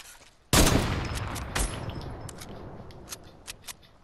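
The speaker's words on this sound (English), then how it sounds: "Let me reload this sniper real quick." A sniper rifle in Fortnite fires one loud, sharp shot that rings out and decays, followed by a few scattered clicks and distant pops.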